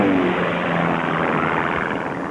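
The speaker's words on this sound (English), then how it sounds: "1 lap left to go, and Noel Gersol, number 7, holding his lead over Bert Jensen, flying the red and white plane, number 11." A racing propeller plane roars past at the Reno air races, a loud, steady engine drone with slight pitch shifts across two seconds, no voices heard.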